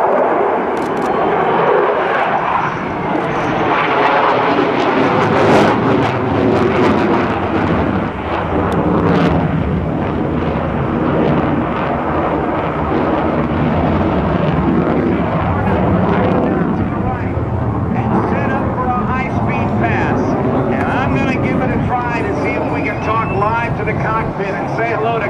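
An F/A-18F Super Hornet pulls through a tight, accelerating maneuver at a naval air station airshow, its jet roar loud and continuous for the whole stretch, with no clear talk standing out.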